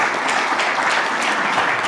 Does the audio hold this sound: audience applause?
yes